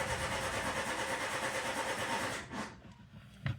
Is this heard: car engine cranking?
yes